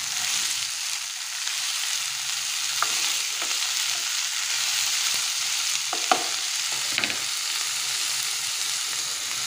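Mixed vegetables for vegetable rice being stirred in a hot pan, with a steady soft sizzle throughout and a few sharp scraping clicks of the spoon, heard alone with no talk.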